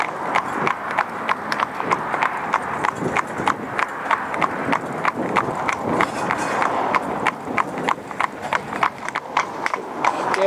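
Hooves of a coloured Gelderlander mare in harness clip-clop steadily on a road while she pulls a cart, a close, even rhythm of sharp strikes running throughout.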